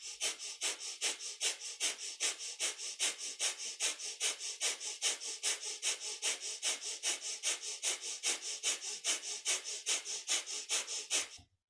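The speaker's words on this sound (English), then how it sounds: "Breath of fire, very cleansing breath, clearing breath, purifying us from the inside out" Rapid, rhythmic kundalini yoga breath of fire: forceful nasal exhalations pumped out in a steady, even pulse of around three per second, close and loud, continuing without talk before stopping abruptly.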